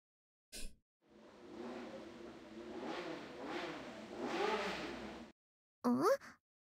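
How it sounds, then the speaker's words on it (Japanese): A moped's low engine in a video game, heard as a mid-range motor hum that rises and swells over several seconds as it approaches, preceded and followed by brief separate sound effects. "遠くから低いエンジン音が近づいてくる。 ゲンチャリかな。"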